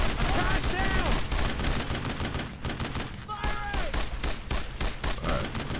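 Dense gunfire from the World War II video game Brothers in Arms: Road to Hill 30, with rapid overlapping shots and bursts filling the whole stretch, loud and continuous alongside game chatter.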